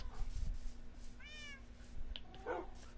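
A Minecraft cat gives one short meow, clear but fairly quiet, over a low background hum with faint rustling around it.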